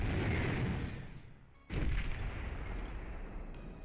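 Missile and artillery fire in the Beyond All Reason strategy game, with a sharp launch blast in the middle over a dense rumbling battle bed, loud and close.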